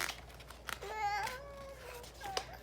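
A one-year-old child imitates a cat's meow with a single drawn-out, wavering cry, faint and close, surrounded by quiet room sound.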